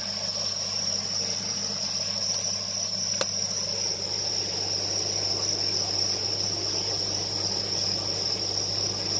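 Crickets at the Thanh Tung cricket farm keep up a steady, continuous high chirping drone that sits close and level throughout, with a low constant hum underneath and no voices.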